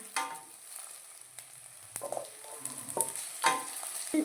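Onions and tomatoes sautéing in a pan for a meal maker fry, giving a soft, steady sizzle broken by repeated scraping stirs and light spoon knocks against the pan.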